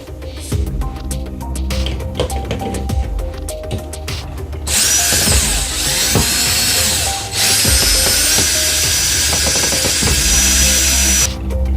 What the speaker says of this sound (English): take out these screws that hold this thing to the wall